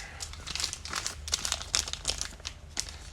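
Soft, close crinkling of a plastic bag, with quiet irregular rustles throughout.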